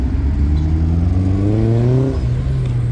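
A Maserati engine revs up through an upshift on a night street cruise, rising in pitch then dropping sharply as the gear changes, loud and close.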